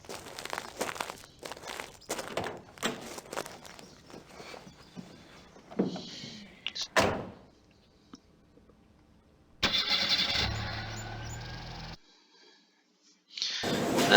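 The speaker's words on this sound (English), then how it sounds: "You gotta use the key on the car each time." A car engine starting with a key in the adventure game Gabriel Knight 2, first a run of clicks and rustling, then a loud cranking roar that catches and runs, cuts off, and starts again at the end.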